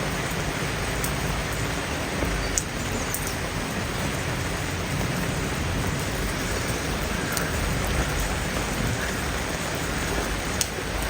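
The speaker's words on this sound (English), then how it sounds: "nice rain." Steady rain falls in a Swiss countryside setting, a dense, even hiss of drops on surfaces that runs unbroken throughout, with a few faint sharper drips standing out.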